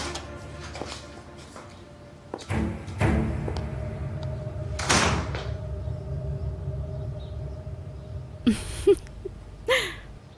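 In an indoor drama scene, a door closes as someone leaves. A few dull thuds and knocks come over about ten seconds, the loudest in the middle, and short gasping vocal sounds follow near the end.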